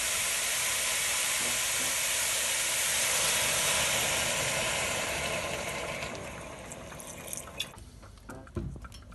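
Water is poured into a hot pot of mushrooms and onions browned over high heat, setting off a loud, steady sizzling hiss that settles into quieter bubbling and scattered pops near the end.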